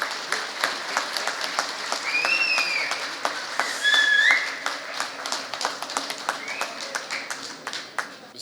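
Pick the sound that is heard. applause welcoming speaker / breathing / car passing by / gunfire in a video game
applause welcoming speaker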